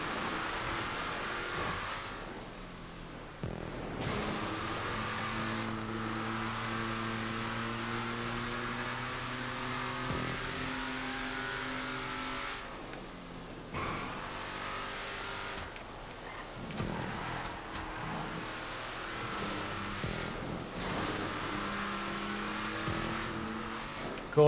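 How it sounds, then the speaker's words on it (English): Off-road trucks racing on a bumpy track in the GTA 5 video game, steady engine drone with revving and shifting pitch, continuous and moderately loud. "I think it works well with the off-road trucks because of the nature of the off-road portions of the track"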